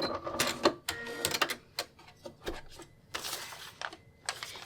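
A sewing machine stitches a foundation paper quilt block in short, uneven bursts of mechanical clatter separated by brief pauses, fairly close and moderately loud.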